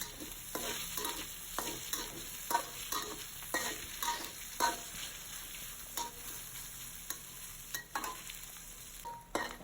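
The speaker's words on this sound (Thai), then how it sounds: "เจียวหนังไก่ไปเรื่อยๆ ค่ะจนกว่าน้องเขาจะเหลืองกรอบนะคะ" Steady crackling sizzle of chicken skin frying in a pan, with repeated clicks and scrapes of stirring scattered throughout.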